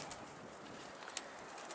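Pigeons on a rooftop where a stray homing bird is being lured back, faint cooing and a soft flutter over steady outdoor background noise.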